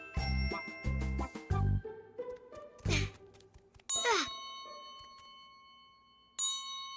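A metal bell in a children's cartoon rings loudly, with several bright struck clangs in quick succession, a louder hit, then a long ringing decay and a final ding, with no voices.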